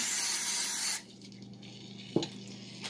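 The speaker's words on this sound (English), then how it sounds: "So you're going to spray the pie plate" A steady hiss of cooking spray onto a pie plate for about a second, then stops, followed by a faint clink of a dish being set down.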